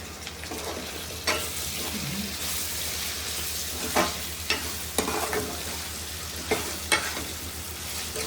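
Ginger paste frying in a pan for chicken fry, a continuous close sizzle punctuated by regular spoon scrapes and taps against the pan, steady and moderately loud with no voices.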